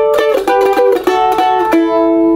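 A bluegrass mandolin plays bright plucked double stops, pairs of notes ringing together in a quick descending line, close and clear with no voices.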